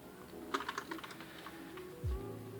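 Typing on a Gigabyte Force K83 mechanical keyboard with Cherry MX Red switches: a quick run of light, close clacking keystrokes, followed by a short low thump as the typing stops, with no speech.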